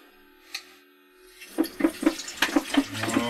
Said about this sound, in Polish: Nalejemy do czajnika wody.